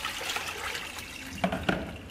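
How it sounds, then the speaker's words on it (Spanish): Water is poured into a bowl to rinse flour out of dough, a soft running splash with a couple of brief louder sloshes near the end. "Incorporamos un poco de agua"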